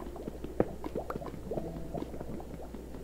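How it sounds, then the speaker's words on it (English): Thick, bubbling lava pops and gurgles in irregular bursts over a low steady hum in a video game. "Because I swear I heard lava."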